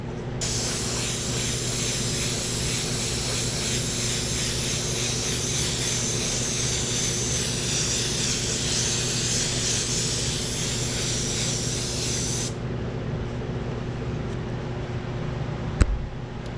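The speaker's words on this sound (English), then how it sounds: "I'm going to start airbrushing with red" An airbrush sprays paint for a sunset and horse silhouette artwork, giving a steady, close, continuous hiss that runs for about twelve seconds over a constant low background hum, then cuts off while the hum carries on.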